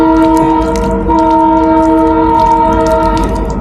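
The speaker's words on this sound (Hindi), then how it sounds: "तो अभी रेल जा रहे हैं, वो हॉर्न मारते हैं" A train passes near a rail line in the Gulf region and sounds a long, loud, steady horn, with rolling wheel and track noise underneath and no one talking.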